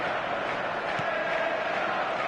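A stadium crowd in the eFootball 26 football game keeps up a dense, continuous roar of voices, steady and fairly loud, with a brief thump near the middle.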